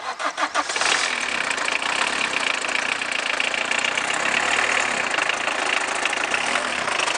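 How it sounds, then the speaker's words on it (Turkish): A Citroen Saxo engine cranks with a few quick pulses, then catches and settles into a steady, loud, shaky idle that runs on without a break. "Sen bir arabayı çalıştır kanka."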